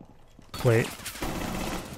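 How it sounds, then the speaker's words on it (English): A shotgun blast in Rainbow Six Siege, a single sharp close shot that rings briefly before dense gameplay noise carries on. "Legion is using the shotgun"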